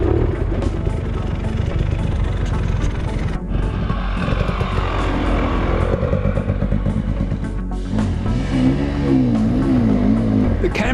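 An enduro motorcycle works its throttle on a steep off-camber slope, its engine droning loud and continuous with rising and falling revs and gear changes, close and steady throughout.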